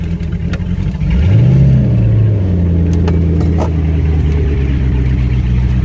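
A 1999 Mariah boat with a Chevy 350 and through-hole exhaust is put in gear and pulls away, the engine climbing from idle into a loud, steady, throaty drone, heard up close without talk.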